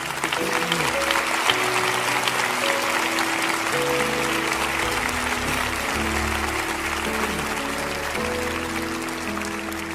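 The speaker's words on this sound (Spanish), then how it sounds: "¿Por qué no les damos ese aplauso fuerte a ellos?" A church congregation applauds loudly and continuously, a thick wall of clapping that stays level throughout, with sustained keyboard and musical tones ringing underneath.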